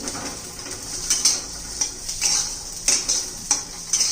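Green chickpeas sautéed in oil in a pan, stirred with a utensil that scrapes and clinks against the metal in regular strokes over a steady sizzle, close and fairly loud, without talk.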